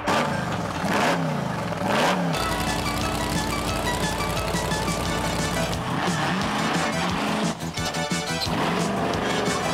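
The 14,000-pound Big Dummy 3 monster truck revving its engine: a loud, rough roar that rises and falls in repeated surges, with clattering mechanical noise throughout.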